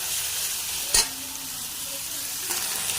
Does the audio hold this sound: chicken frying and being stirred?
yes